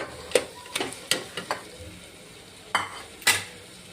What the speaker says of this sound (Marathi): त्याच्यामध्ये थोडासा तेलात परतवून घ्यायचं ते मटण घालून